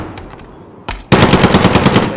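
Gunfire in Call of Duty: Modern Warfare: a few quiet distant shots, one sharp crack, then a loud, close burst of rapid automatic fire in an even rattling rhythm.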